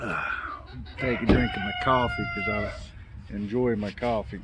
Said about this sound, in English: you're gonna hear the roosters and stuff go off